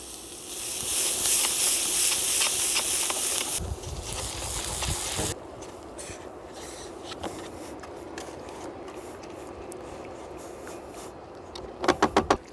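A pot of tomato sauce simmering on the stove gives a steady hiss and soft bubbling, louder at first and then quieter, with a few brief knocks near the end.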